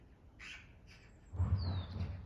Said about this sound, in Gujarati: બર્ડ્સનો કેવો સરસ અવાજ સંભળાય છે